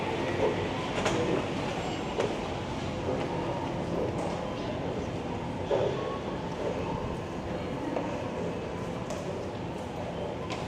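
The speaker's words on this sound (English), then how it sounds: "I'm going to catch the westbound train." Westbound subway train on the Toronto line, a steady rumbling rail roar with occasional clicks and clanks from the cars, loud and continuous throughout, with faint voices mixed underneath.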